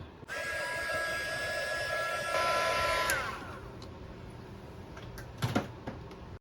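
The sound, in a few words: heat gun shrinking heat shrink tubing over wire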